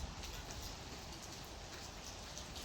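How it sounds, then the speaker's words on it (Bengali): Rain falls outdoors as a soft, steady patter with light drops landing on surfaces, faint and continuous throughout. "বৃষ্টি আবারও নামতেছে"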